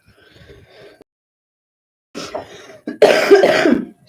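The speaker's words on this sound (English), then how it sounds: "Excuse me for all my stoner coughing." A person coughs indoors, a few faint soft coughs first, then after a pause a louder burst of harsh, close coughing and throat clearing.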